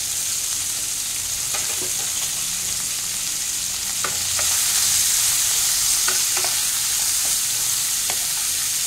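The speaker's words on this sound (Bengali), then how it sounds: "এটাকে আমি একটু হাই ফ্লেমেই ভাজবো।" Carrots and beans for Hakka noodles sizzle while being stir-fried on a high flame, a steady hiss broken by scattered scraping clicks of a spatula against the pan, growing slightly louder partway through.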